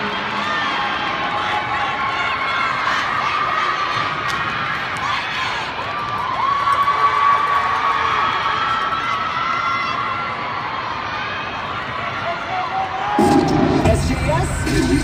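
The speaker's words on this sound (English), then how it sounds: "One more round of applause for Lightning." A crowd at a junior coed cheerleading competition cheers, whoops and shouts for a cheer team, loud and continuous with children's voices and scattered claps, swelling again near the end.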